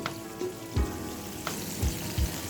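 Chicken popcorn pieces fry in hot oil, giving a steady close sizzle with a few soft thumps and stirring knocks over the bubbling.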